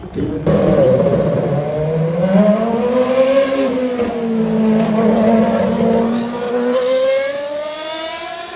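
A rally race car drives hard on the track at Red Bull Motormania, its loud engine revving up and down continuously and close by, with no talk over it.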